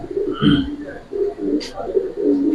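Racer pigeons coo in low, rounded bursts repeating through the short stretch, fairly close, with a brief higher sound and faint background noise between calls.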